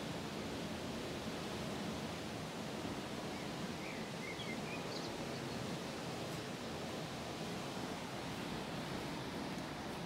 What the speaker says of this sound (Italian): ho un canale che passa vicino a casa, quindi sentite il rumore dell'acqua